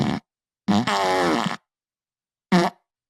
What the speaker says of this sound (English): Judge Eileen Cannon gets a full potato fart for that behavior